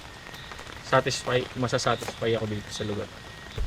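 Monsoon rain at a solo campsite falls steadily on a surface as a soft, constant hiss beneath someone speaking close to the microphone.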